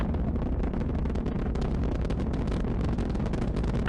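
Rocket engines thrusting during a space launch, a dense, continuous roaring rumble heavy in the low end, loud and unbroken with crackling texture throughout.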